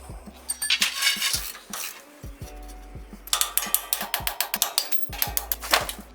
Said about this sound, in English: And then I'll undo this bolt here, which is the lower mounting bolt of the front strut assembly.